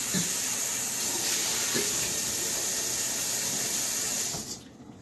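Water running from a tap as a juicing bowl is rinsed in a sink, a steady hissing splash throughout that cuts off abruptly near the end, with no talking.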